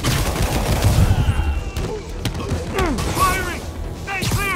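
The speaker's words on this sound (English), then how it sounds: "Gunshot coming! Find cover!" Gunfire in the Marvel's Spider-Man Remastered video game: a steady barrage of loud, rapid shots and blasts mixed with shouting voices throughout.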